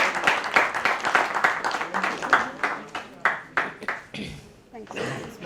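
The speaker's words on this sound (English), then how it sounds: "Big round of applause for Archana" An audience at a tech conference applauds a speaker, with dense clapping that thins into scattered claps toward the end. Voices talk over the clapping.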